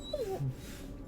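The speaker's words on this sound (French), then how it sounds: "je m'y connais en jeu vidéo, c'est un chien ça" Dog whimpering in a video game, a short, high, thin whine that slides downward and then gives a lower yelp, close and fairly quiet over faint background hum.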